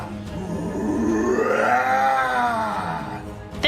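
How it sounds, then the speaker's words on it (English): A sound designer records heavy metal vocal screams for the game Warframe, producing one long, loud, strained and gravelly growl that climbs in pitch and then falls away, close to the mic with no speech. "destroying his vocal cords and laying down some screams for the Warframe"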